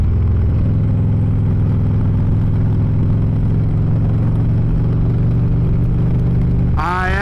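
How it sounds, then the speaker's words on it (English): A Harley-Davidson Electra Glide motorcycle running, its engine a loud, steady, deep throb held close throughout, with a brief rising rev at the very end. "I absolutely love the way that this bike sounds."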